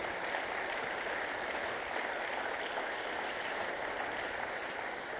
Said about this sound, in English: If I can ask you to give them all a round of applause